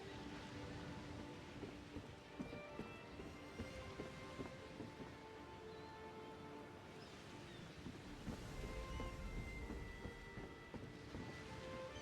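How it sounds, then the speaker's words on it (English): Ocean waves wash and roll in the background of the Elder Scrolls Online video game, a soft continuous ambient surge with faint tonal game sounds layered over it and no talking. "the waves in the background there"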